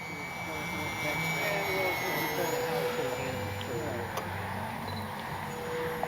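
An FMS Cessna 182 Skylane RC model airplane drones steadily as it flies out of a stall turn, a continuous engine hum holding moderately loud throughout, with no one speaking.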